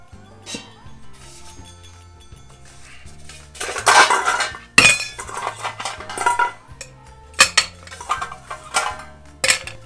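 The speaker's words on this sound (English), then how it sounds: "first we're going to start by putting some ice in the shaker" Ice tumbles into a cocktail shaker while making an Easter S'mores Old Fashioned, giving clattering clinks in several sharp bursts over soft background music.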